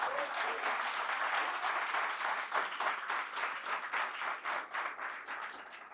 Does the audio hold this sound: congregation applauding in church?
yes